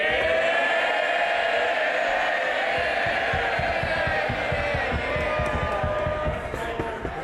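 MPs in the House of Commons cheering and roaring for the new Prime Minister Rishi Sunak, a dense, loud crowd din with thumping and banging throughout that eases slightly near the end.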